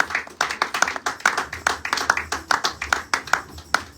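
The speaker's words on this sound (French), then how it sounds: "Si tu crois en moi, tu applaudiras fort." Loud, rhythmic hand clapping from a church congregation during a Sunday worship service, steady claps coming about four times per second with a faint voice underneath.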